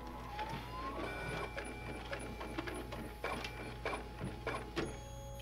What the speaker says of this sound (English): Oh, it's a 3D printer. That's awesome.